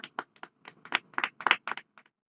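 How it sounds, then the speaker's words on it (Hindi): A small church congregation at a Hindi sermon claps for Jesus: quiet, scattered hand claps, often in quick pairs, uneven in rhythm and separated by brief silences. "पहले तो यीशु मसीह के लिए जोरदार ताली बजाइए"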